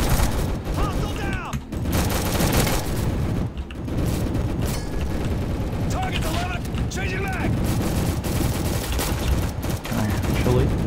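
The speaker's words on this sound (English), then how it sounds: "And we'll shoot some stuff." Dense gunfire in the Roblox first-person shooter Recoil, with loud continuous bursts, booms and mechanical clatter filling the whole stretch, while a voice talks underneath.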